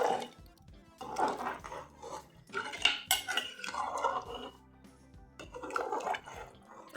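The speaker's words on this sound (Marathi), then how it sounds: "आता एकसारखं हलवून घेऊया." Rice with green peas and water is stirred in a cooking pot, giving a series of scraping, clinking spoon-on-metal strokes with soft watery sloshes, close and moderately loud, with brief pauses between bursts.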